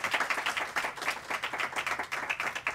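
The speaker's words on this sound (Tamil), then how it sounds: "இதுக்கு இந்த கைத்தட்டல் போகிறது." Audience clapping at a violin duet concert, a steady patter of many hands with no talk over it.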